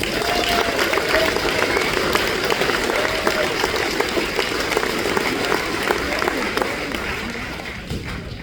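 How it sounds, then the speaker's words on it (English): Steady applause from the audience at the 64th Knoxville Nationals drivers meeting runs for the whole stretch, dense and even, with a bit of crowd murmur underneath. "Give all of them a round of applause, please."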